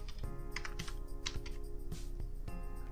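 Password being typed on a computer keyboard: quick, irregular clicks of individual keystrokes, fairly close and distinct, with no talking.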